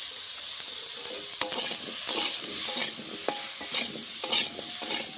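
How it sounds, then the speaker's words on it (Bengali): Potato pieces seasoned with salt and turmeric frying in a pan for a Bengali fish curry, a continuous soft sizzle with scraping stirs and occasional clinks of the spatula, close and with no talk. "আলুটা ভালো করে ভেজে নেব।"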